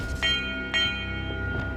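A bell chimes in the Hogwarts Legacy game, three bright metallic strikes about half a second apart, each ringing on with a sustained tone over a low background hum.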